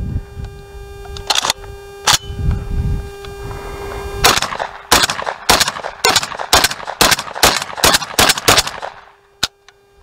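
A JTS MK12 rifle on gas setting one fires a rapid string of loud, sharp shots close by, with a few spaced shots first and a dense burst after, then a final lone report.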